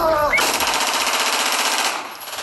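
Rapid bursts of gunfire, as from weapons of war, with fireworks at a criminal's wake in La Granja, Chile: a loud, dense, continuous volley of cracks that barely pauses across the whole stretch.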